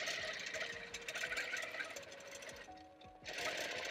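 A sewing machine stitches a quilt border along a ruler, its steady rapid needle chatter running continuously, pausing briefly near the end before resuming, close and alone.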